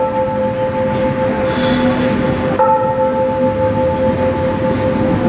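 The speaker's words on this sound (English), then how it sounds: "And it's going into a little routine of chimes, music, and light." A clock tower in Chiang Rai rings out a steady chiming bell tone with sustained, ringing pitches, loud and continuous, part of a routine of chimes, music and light, with no voices.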